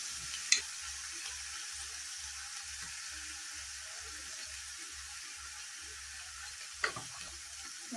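Onion, tomato and chili paste frying in a pan with Kashmiri red chili, a steady low sizzle running throughout with a couple of brief clinks of a utensil, no talking.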